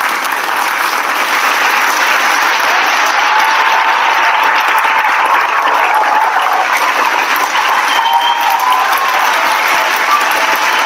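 Steady, dense applause and hand clapping from an audience, loud and continuous throughout with a constant wash of claps and no break.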